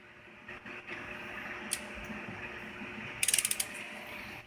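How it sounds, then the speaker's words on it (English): A torque wrench tightens intake or exhaust manifold bolts on a Mk4 GTI 1.8T, giving a quick cluster of sharp ratcheting clicks near the end over low background hum. "You gotta go slow on the torque wrench, it's only 10 pounds."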